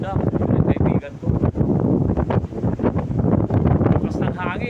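Strong wind at a seaside resort buffets the microphone in heavy, gusting rumbles, with someone talking close by over the roar.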